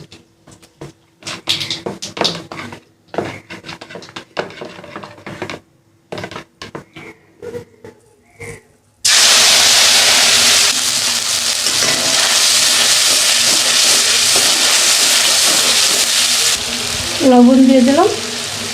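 After a quiet stretch of scattered kitchen clicks and clatter, turmeric, a splash of water and black cumin seeds hit hot oil and burst into a loud, sustained sizzle that swells briefly near the end.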